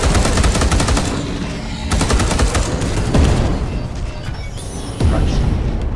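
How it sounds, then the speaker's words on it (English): Loud, rapid automatic gunfire in the sci-fi shooter Space Hulk: Deathwing tears into Genestealers, in dense continuous bursts with booming impacts and a brief lull partway through. "I do feel sorry for the Gene Stealers who get pinged by our gunfire."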